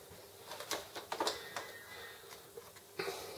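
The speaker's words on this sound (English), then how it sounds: "So I'm going to power the printer on now" An Epson Expression XP-202 inkjet printer fitted with a continuous ink system powering on, giving a series of quiet clicks, ticks and short mechanical whirs at irregular intervals, close and fairly faint.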